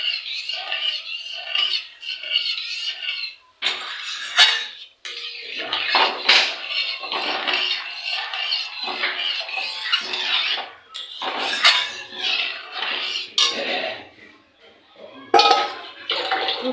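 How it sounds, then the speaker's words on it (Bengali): A spoon scrapes and knocks through a yogurt and gram flour mixture in a metal pot for a kadhi, with irregular clinks and wet stirring sounds running continuously and fairly close, while a voice talks over much of it. "দেখুন আমি এখন নাড়তে থাকবো"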